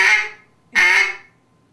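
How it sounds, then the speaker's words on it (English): Two loud, nasal basic quacks blown up close on a Duck Lander duck call, each drawn out and fading, separated by a short gap. "That is the quack, fellas."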